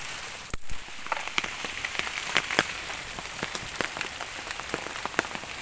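Heavy rain during a storm in a forest patters densely and continuously on surfaces, with many sharper individual drop hits and splashes standing out close by, and no voices.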